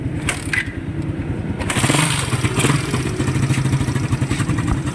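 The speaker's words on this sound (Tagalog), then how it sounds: "Ito yung tunog ng makina ni sir nung ni-refresh." Car engine idling after a timing chain replacement, still with a ticking fault heard both hot and cold, a steady mechanical clatter with a rapid rhythmic tick, close and fairly loud throughout.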